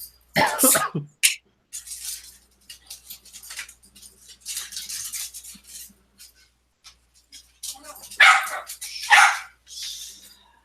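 A dog barks in several sharp, loud, close bursts spread across the stretch, with brief quiet gaps between them.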